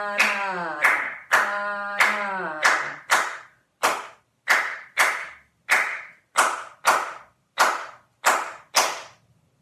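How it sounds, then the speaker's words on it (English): Hand clapping in a steady rhythm of about a dozen sharp, close claps, following brief sung or spoken tones at the start, as part of a rhythm exercise. "So I'll clap it through again and see if you can join in"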